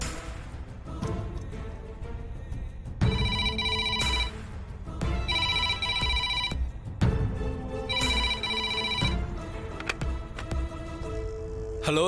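A telephone rings as a call is placed to Yercaud police station, sounding in repeated loud electronic bursts separated by short pauses, with a dramatic music score pulsing underneath.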